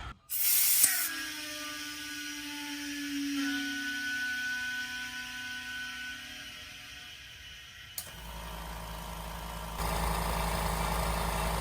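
A California Air Tools silent air compressor runs with a steady motor hum and a smooth tonal whine, then shifts pitch partway through before a loud, continuous rush of spraying air takes over near the end.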